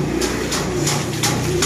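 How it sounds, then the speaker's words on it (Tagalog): Racing pigeons coo steadily at a loft in Manila, a low continuous murmur of several birds repeating close by, with a few brighter sounds recurring over the soft cooing and no talk. "Sabay ng mga ibon natin,"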